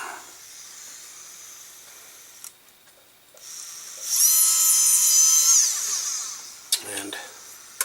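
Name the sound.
flex shaft drill boring a hole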